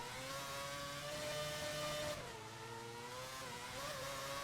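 A Formula 1 racing car in the F1 2010 video game accelerates out of the pit lane, its engine a steady, high-pitched rising drone that holds throughout with a brief gear-change dip.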